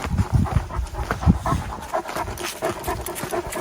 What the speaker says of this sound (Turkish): biraz sıkıntılı bir köpek